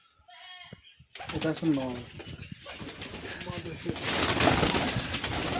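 Pigeons, Rajshahi Giribaz birds on a pigeon farm, coo in soft repeated throaty calls nearby, with people talking over them and some wing flutters.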